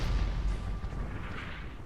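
A Gatling gun in a naval video game battle hammers at trapped enemy ships, a fast rumbling stream of low, thudding shots close and steady, easing slightly near the end.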